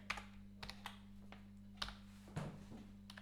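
Keys tapped on a computer keyboard while entering Python code, a few scattered soft clicks at quiet level over a steady low electrical hum.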